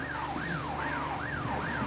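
A police car siren in The Getaway video game wails in a steady rising and falling cycle, repeating about four times, loud and continuous over a low engine rumble.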